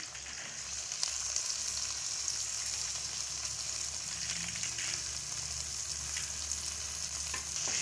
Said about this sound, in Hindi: इसको भी अच्छी तरह से ऑयल में मिक्स कर लेंगे ताकि जो टमाटर हैं वो भी अच्छे तरीके से इसमें भून जाए